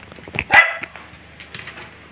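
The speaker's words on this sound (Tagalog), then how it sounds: "Aso." A dog barks once, sharp and fairly close, in a home setting during a spaghetti-eating session, with soft indistinct sounds and faint voices around it before and after.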